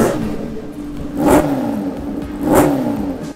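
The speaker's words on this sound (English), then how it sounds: "This motorcycle rockets off and gives off a powerful soundtrack as well." A supercharged Japanese motorcycle engine revs hard twice, each blip surging loudly then falling back to a rough idle, close and powerful.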